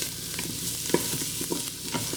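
Garlic fries in a pan with a soft, steady sizzle, punctuated by a few light taps and scrapes of a utensil stirring, quiet and close.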